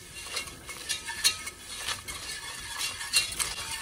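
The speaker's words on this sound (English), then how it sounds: "And now you wanna whisk it for 3 to 5 minutes because we wanna give everything time to cook." Whisking rice flour and tapioca starch in a pot for a gluten-free creamy mushroom soup: soft, repeated scraping and swishing strokes in an uneven rhythm, fairly faint and close, with no talking.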